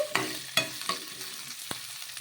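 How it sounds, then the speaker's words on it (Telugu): A spoon stirs green chilies frying in a pan, giving a few sharp scraping clacks over a soft, steady sizzle, close by and with no talking. "పచ్చిమిర్చి కూడా వేసుకొని ఒకసారి బాగా కలిపేసుకుందాము ఇవన్నీ కూడా మగ్గించుకోవాలి"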